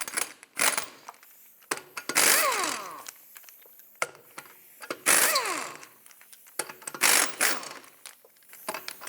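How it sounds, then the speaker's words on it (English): Lug nuts being removed from the rear wheel of a 2007-2010 Chrysler Sebring with a 19mm socket: repeated metallic ratcheting and clanking bursts, close and fairly loud, separated by short pauses, with no talking. "take off all 5 of your lug nuts"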